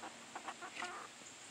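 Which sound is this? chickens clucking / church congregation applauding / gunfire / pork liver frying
chickens clucking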